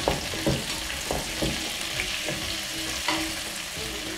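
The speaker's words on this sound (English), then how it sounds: "I'll stir fry it for about 1 minute" Chopped red and green bell peppers stir-fry for sweet and sour chicken, giving a constant close sizzle broken by repeated scraping strokes of a spatula against the pan.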